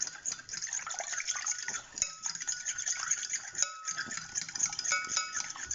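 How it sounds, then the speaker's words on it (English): Eggs whisked by hand in a bowl, a fast steady run of light metallic clinks and taps with a few brief pauses, close up. "I whisk it by hand"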